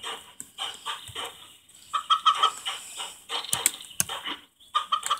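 A chicken clucks and squawks in bursts, near and fairly loud, with sharp agitated cackles scattered over a few seconds and no voices.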